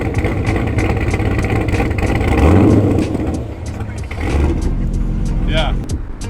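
A modified Nissan GT-R sits idling with a deep, steady rumble close by, joined by a passing engine surge midway; voices are present alongside the car sound.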